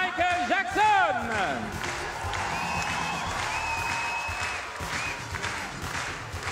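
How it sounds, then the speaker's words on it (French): Audience applause and cheering rise in a large concert hall for the performers of a dance show, a steady crowd clatter with whoops, following an opening burst of shouting voices. "messieurs dames, d'applaudir tous les héros de cette soirée"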